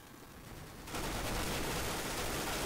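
Sustained AK rifle fire in the CS:GO video game, a dense rapid stream of close, loud shots that kicks in abruptly after a quieter start and runs to the end.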